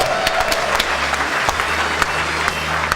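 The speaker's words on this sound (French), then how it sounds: "je crois qu'on va applaudir bien fort." An audience at a school robotics competition applauds loudly and steadily after a team's display, a continuous wash of clapping with a few sharper individual claps standing out and little talk.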